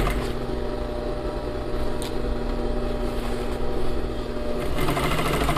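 A sewing machine runs steadily while stitching a flared skirt, giving a close, continuous whirring hum with a fine mechanical buzz that holds nearly to the end before easing off.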